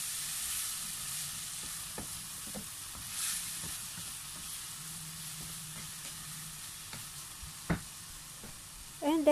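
Chicken and bitter gourd in a pot with fish sauce get stirred, a faint simmering hiss broken by scattered utensil knocks and scrapes, with a louder clank near the end.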